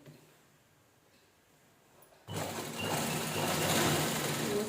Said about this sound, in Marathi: त्याच्यावर स्टिच करून घ्यायचं